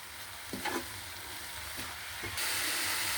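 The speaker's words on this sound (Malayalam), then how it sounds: "എല്ലാം മിക്സ് ചെയ്ത് കൊടുക്കാം." A banana flower thoran stir-fry of crushed coconut, green chilli and cumin is stirred in a pan, giving a soft, steady sizzle with a few scraping strokes of the spoon and then a brighter, louder frying hiss.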